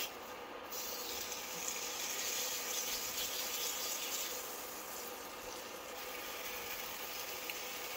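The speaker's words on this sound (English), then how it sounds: "This is hot. Put the steak right on the grill." Steak sizzles on a hot grill, a steady, faint hissing wash that holds evenly throughout with no voices.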